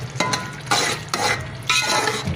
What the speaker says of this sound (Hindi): अब इसको अच्छे से मिक्स कर देंगे हम।